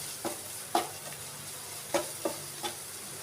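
Kadhai paneer masala stirred in frying oil with a little sugar, a soft continuous sizzle punctuated by several sharp scrapes of a spoon against the pan at uneven intervals, close and without voices.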